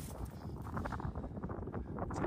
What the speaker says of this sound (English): this wind is crazy, it's relentless